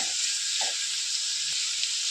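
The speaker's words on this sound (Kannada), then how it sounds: "ಸೊ ನೀಟಾಗೆಲ್ಲ ಫ್ರೈ ಮಾಡ್ಕೊಳ್ಳಿ" Tempering frying in a pan, a constant even sizzle of hot oil with a few soft stirring scrapes and one brief tap against the pan.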